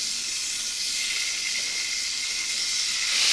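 Steady high hiss of chicken livers sizzling in a smoking-hot pan, continuous and fairly loud with no talking.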